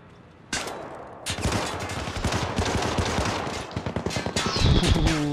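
Rapid gunfire crackles through a Syndicate video game firefight, with dense overlapping shots and impacts filling most of the stretch, loud and close, with no talk over it.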